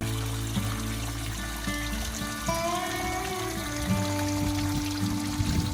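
Water pours and trickles steadily at the Drips, a dripping rock spot near Moab, Utah, with a continuous close splashing flow and some faint tonal hum underneath.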